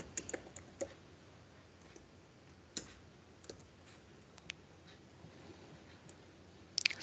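Keys tap on a computer keyboard in sparse, faint clicks with irregular spacing, a small cluster of quicker taps arriving at the end.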